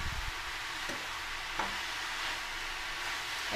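Sugar is stirred into beetroot halwa in a hot pan, giving a soft steady sizzle with occasional scraping strokes, quiet and close, with no voices.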